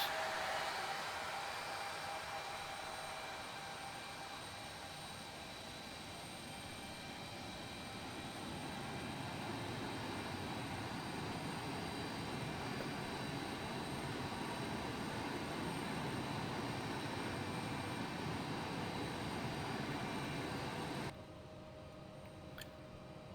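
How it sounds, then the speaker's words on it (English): A simulated Embraer 195 jet engine spooling up in a flight simulator, a steady rising whine and broadband roar that holds for about twenty seconds, then drops in level near the end with no talk. "And again, very nice modeling on the engine start."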